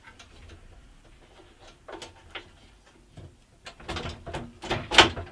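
A Scheppach HBS-20 compact band saw has its table swiveled by hand, producing close mechanical clunks, ticks and scraping knocks in an uneven sequence that grows louder toward a final sharp clack.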